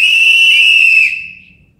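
Protesters blowing whistles at a rally over the Mountain Valley Pipeline: one loud, shrill, sustained blast held for about a second, then fading away into silence.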